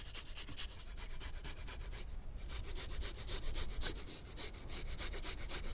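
Garlic cloves grated in a kitchen, a close, continuous rhythmic rasping of quick strokes that keeps going without a break or any talk.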